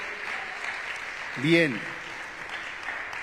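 A church congregation claps steadily through the whole stretch, a dense even wash of applause with one short spoken word from a man breaking in midway.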